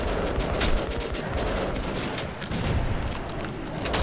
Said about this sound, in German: Ich werf doch mal eine Granate hin.